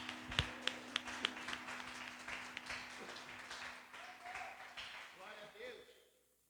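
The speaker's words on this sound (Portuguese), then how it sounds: "Você pode dar uma salva de palmas para Jesus?" Church service congregation clapping for Jesus, opening with a few sharp single claps that swell into a rippling round of applause with voices mixed in, then fade toward quiet.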